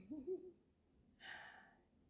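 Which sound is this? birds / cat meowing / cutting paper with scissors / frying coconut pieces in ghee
birds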